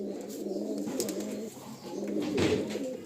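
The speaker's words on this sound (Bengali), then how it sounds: "এগুলো বাইরের পায়রা, পাকিস্তানি পায়রা।" Pakistani pigeons coo close by in low, throaty, rolling phrases that swell and fade across the few seconds, with no talking.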